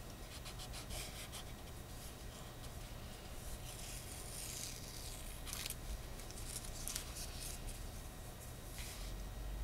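Tape is peeled off a handmade craft card, giving a quiet continuous rubbing and tearing rasp with a few brighter crackles. It is close and faint, and no one speaks.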